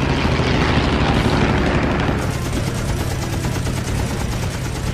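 Machine guns on a World War II fighter plane fire in a dogfight, a dense, loud rattle of rapid bursts over the roar of the aircraft engine that runs through the whole passage without letting up.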